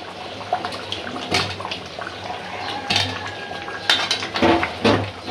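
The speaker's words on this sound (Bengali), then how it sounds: "আলুটা দিয়ে একটু লাড়াচাড়া দিয়ে পানি দিয়ে দিই" Water splashes into a metal pot of beef and potatoes amid clinks and scrapes of cookware, with a few louder clattering bursts.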